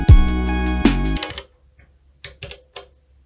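Elektron Digitone synthesizer playing its main two pattern: a loud sustained chord that stops after about a second, followed by a few soft, sparse clicky percussive hits, alone.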